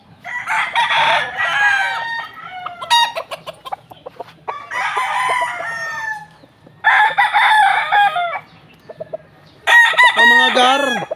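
A Boston Roundhead gamefowl rooster crows close by, sending out four or five loud, strained bursts with short silent gaps between them. Sharper clucking notes mix in among the crows.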